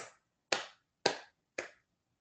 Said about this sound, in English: Do a few soft claps.